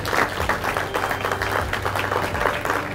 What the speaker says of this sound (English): Let's give him one last round of applause